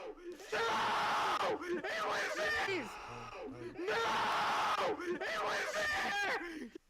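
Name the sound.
people screaming in an animated clip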